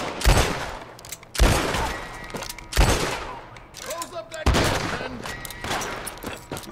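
Repeated shotgun blasts in Red Dead Redemption 2 Online, four sharp loud booms spaced about a second or so apart, each with a short ringing tail, with a voice talking between shots.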